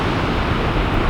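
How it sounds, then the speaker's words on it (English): Steady, broadband rushing roar of falling water, loud and continuous throughout with no pauses and no voices. "We have a beautiful waterfall just behind us, but sadly it's very noisy."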